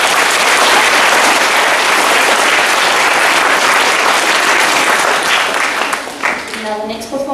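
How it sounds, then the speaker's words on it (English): A school assembly audience gives loud, sustained applause for a student's opening guitar performance at an International Day event, the clapping dense and steady before thinning out near the end as a voice begins to speak. "A round of applause for Max."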